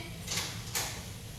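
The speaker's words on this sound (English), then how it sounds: "I'm going to wait for my patient to knock on the door." Two sharp knocks land on a door in a nursing health-assessment practice room, spaced about half a second apart at moderate loudness, with no talking.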